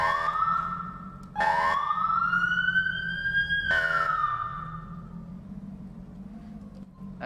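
A fire engine siren in a UK roleplay driving game wails in long rising and falling sweeps, loud and close, with a sharp restart partway through over a low engine rumble.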